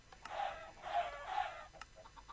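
Chickens spawned in a Minecraft-style video game cluck in three short, even bursts, moderately loud and alone, with a few faint ticks afterward.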